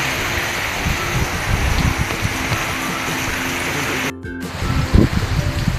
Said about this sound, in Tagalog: Hindi na naman pong lumakas ang hangin at ulan